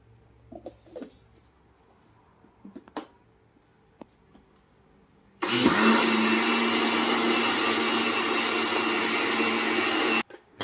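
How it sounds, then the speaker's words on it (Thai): A blender whirs pandan syrup with its lid closed, starting abruptly after a few quiet clicks and running loud and steady for about five seconds before cutting off. "ปิดฝาแล้วก็ปั่นอีกรอบ"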